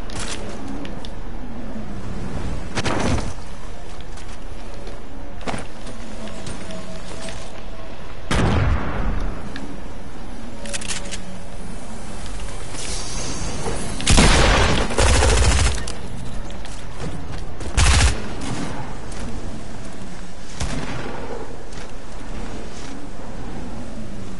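Fortnite gunfire rings out as sharp, loud shots in scattered bursts, some single cracks and some rapid clusters, with quieter game ambience between them.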